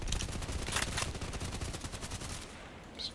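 Rapid gunfire in a shooting game with a misaligned Mosin Nagant rifle, a steady string of sharp shots with a couple of louder cracks, fairly loud, without talk, fading near the end.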